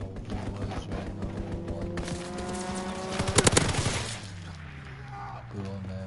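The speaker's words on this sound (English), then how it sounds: "Fighter aircraft ready. Call for a strafing run." Aircraft strafing-run gunfire in the Call of Duty WWII game: a dense burst of rapid shots peaks mid-clip over continuous game music and battle noise, with voices heard.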